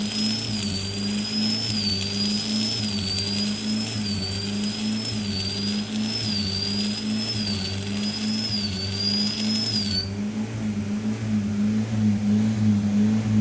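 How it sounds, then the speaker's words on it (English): Stick welding on a Geo Tracker in a garage, a harsh, cranky, continuous buzzing crackle of a burning welding rod with a steady droning hum underneath and a thin whine that stops near the end. "It's quite the cranky noise that makes it. It's not like your average stick weld now."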